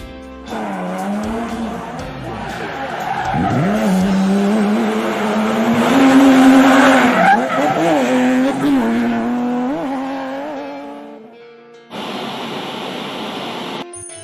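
Two cars on the move, a red one holding a steady speed and a black one accelerating: a loud engine drone rises and sweeps in pitch alongside squealing tires, then cuts to a short burst of broadband noise.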